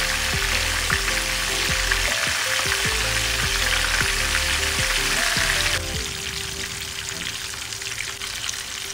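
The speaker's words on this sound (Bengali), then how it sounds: "লো ফ্লেমে কিন্তু আমি ওপিট করে ভালোভাবে আমি এটাকে ফ্রাই করে নিয়েছি।" Chicken breast fries in oil over a low flame, a steady close sizzle with crackling spatters that drops to a quieter, thinner hiss partway through, with no talking.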